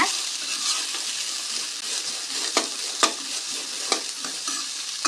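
Cluster beans sauté in hot oil, producing a bright, continuous sizzle broken by intermittent spoon scrapes and taps against the pan, loud and close with no voices.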